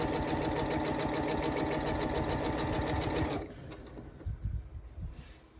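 A sewing machine runs fast and steady while stitching quilt pieces, a close continuous mechanical chatter that stops after about three seconds, followed by quieter handling noises and a faint clink.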